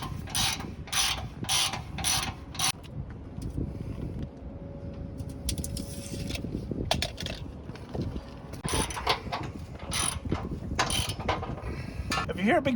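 Mechanical clicking and ratcheting while a Fastway e2 RV hitch is loosened and tightened, sharp repeated clicks in bursts over a steady low rumble, close by.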